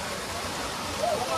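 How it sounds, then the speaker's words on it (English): A small waterfall in a Thai jungle gives off a constant, even rush of falling water close by, with a brief voice-like sound near the end. "Nice little waterfall right here."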